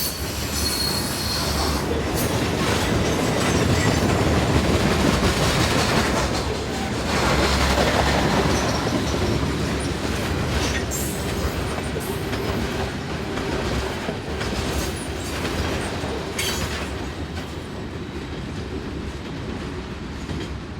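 A long CSX coal train of 87 hopper cars rolls past on the Kanawha Subdivision in West Virginia, loud and close, with continuous wheel squeal and rumbling clickety-clack that eases slightly toward the end.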